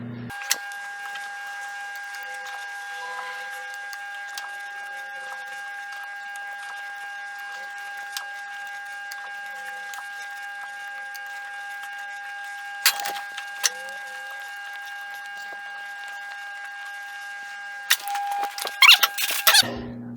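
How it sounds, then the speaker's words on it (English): A threading die is hand-turned down an oiled metal part, kept straight by a drill chuck, giving faint squeaks and creaks over a steady whine, with a busier burst of scraping near the end. "It's gonna keep this die tool perpendicular to our part, so we get nice straight threads."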